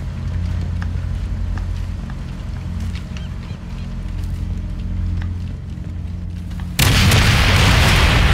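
A sabotaged artillery gun blowing itself apart in Sniper Elite 5, a single loud, sudden blast cutting in after a long stretch of low, steady rumble.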